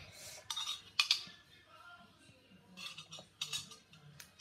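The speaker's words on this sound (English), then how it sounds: "Now I'm going to take a mini spoon" A small metal spoon clinks against a dish in a few light, bright taps spread across the moment, fairly close but quiet, with faint background murmur and no one speaking.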